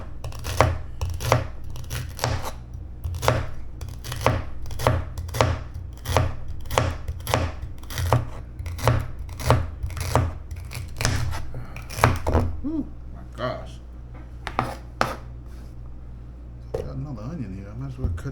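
A knife chops an onion on a cutting board during stew preparation, with a long run of steady, close, crisp thunks that then thins into scattered cuts, under a faint low hum.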